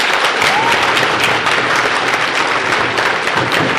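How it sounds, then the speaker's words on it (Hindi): Audience applause for the winning team at a Bait Baazi Urdu verse contest during an educational conference in Aurangabad: dense, loud, steady clapping from a large hall crowd lasting the whole stretch. "तालियां आपकी कम पड़ रही है।"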